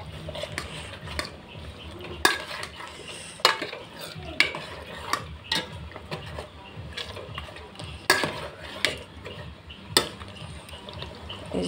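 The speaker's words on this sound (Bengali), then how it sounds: "এই মাংসটা আমি ভালো করে কষিয়ে নেব এখানে।" Meat is stirred and sautéed in a pan, with a soft, steady sizzle under repeated sharp scrapes and clicks of a utensil against the pan, close and moderately loud.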